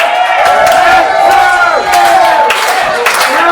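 A large wrestling crowd roars and cheers continuously at a live 3WA event, with loud sustained voices and chants filling the arena and no pauses.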